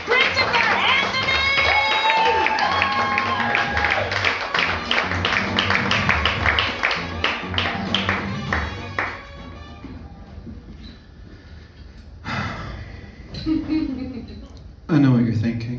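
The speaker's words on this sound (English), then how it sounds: "Will you all start clapping right now for the ever funny?" Audience clapping and cheering for a comedian at a clean comedy show, a loud, dense burst of applause that thins out into scattered claps, with someone talking over it and later alone.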